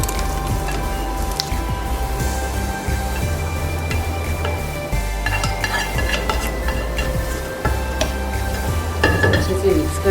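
Close, loud stirring of lentils and masala for haleem in a pot, with continuous squishing, scraping strokes and occasional clinks of the utensil against the metal.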